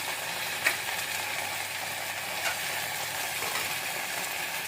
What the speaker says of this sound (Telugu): టమాటో వేసి కొంచెం మంచిగా ఇలాగా కలియపెట్టినట్టు చేసి